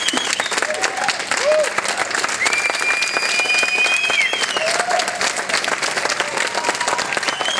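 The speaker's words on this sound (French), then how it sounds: "je tiens à tenir une main d'applaudissement pour ces deux avocats-là" Crowd at a solidarity vigil for lawyer Denis Poitras applauding two lawyers, continuous close clapping with scattered whoops and voices mixed in.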